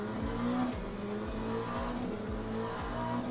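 An LMP2 prototype race car in the sim racing game Le Mans Ultimate drones past at high revs, its engine note rising and falling through repeated upshifts, loud and close with a steady roar and faint tyre noise.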